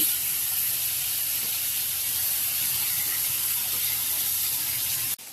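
Kalsa fish fry in hot oil in a pan, giving a steady, close, even sizzle and hiss that runs throughout with no talk over it.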